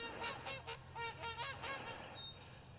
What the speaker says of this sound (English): some snow geese